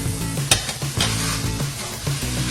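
Food tossed in melted butter sizzles loudly and steadily in a pan, with repeated scraping and stirring strokes and a sharp clack of a utensil against the pan near the start.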